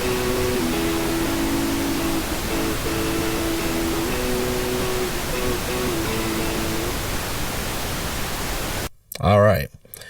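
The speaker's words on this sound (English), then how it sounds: "And now I'm going to turn on my pink noise." Steady broadband hiss of pink noise during a static mix setup fills the clip, with a faint guitar melody underneath that fades out before a brief different burst near the end.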